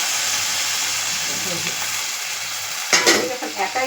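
Steady loud sizzle of fish frying in a pan for chorchori, with a clatter of stirring near the end and no speech.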